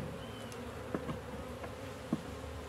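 Honeybees buzzing faintly around a weak, sparsely populated hive with drone-laying problems, a low continuous hum with a few brief louder passes of individual bees close by.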